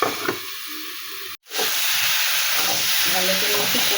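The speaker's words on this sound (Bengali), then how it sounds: "এবারে এটা ভালো করে ওই সবজির সঙ্গে কষিয়ে নেব" Vegetables and soaked red chili powder stir-frying in a pan for fish curry, a loud close sizzle and hiss with stirring scrapes, broken by one brief cut before the frying resumes steadily.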